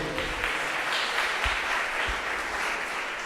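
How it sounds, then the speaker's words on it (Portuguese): Steady applause from a church congregation at a seventh-anniversary service, a continuous moderate wash of clapping with a few low thumps. "Dê uma salva de palmas"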